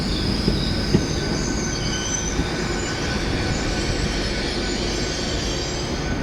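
A passenger train arriving at a station near Exeter rumbles steadily nearby with high metallic wheel squeals and occasional clicks, a continuous heavy rolling sound.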